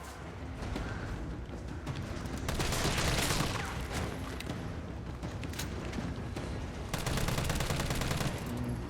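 Gunfire in Resident Evil 3 Remake: rapid bursts of shots pile into a dense, continuous barrage of cracks and booms that keeps up for several seconds, with a fresh burst near the end.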